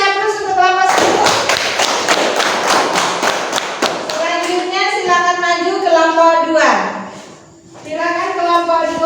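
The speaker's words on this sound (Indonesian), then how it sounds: "Kasih aplaus untuk kelompok 1" A classroom group gives a round of applause for the first presenting team, dense hand claps and thuds for about four seconds, then children's voices talking and chattering over fading claps.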